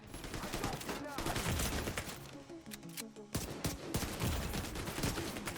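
Rapid automatic gunfire from a poorly handled gun with heavy recoil in The Division 2, loud dense bursts with a short lull midway before the shooting resumes, a voice also present.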